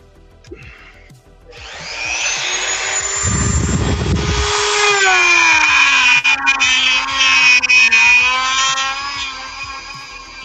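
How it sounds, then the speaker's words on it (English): A power drill whirs up and runs for several seconds at a high steady pitch while working on a plastic model kit, the motor tone dipping slightly as it bites, loud and close. "Pardon the drill noise."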